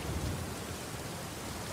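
Rain in the video game Uncharted 4 on a slippery mountainside, a dense hiss of falling rain with a low rumble at the start, steady and fairly loud with no voices.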